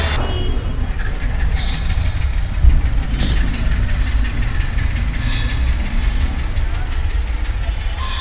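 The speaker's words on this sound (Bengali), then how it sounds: "এখন আছি হচ্ছে কমলাপুর রেলওয়ে স্টেশনে" A steady, loud rumble of a train fills the scene, with rolling low-end noise and occasional clanks, on a platform at Kamalapur Railway Station, Dhaka.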